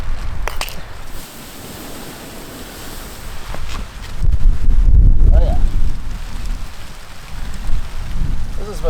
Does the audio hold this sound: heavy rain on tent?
yes